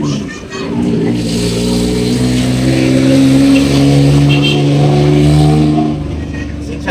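Roadside traffic along a busy route in the Philippines, with a loud nearby vehicle engine droning and revving as it passes close by, swelling and then fading off.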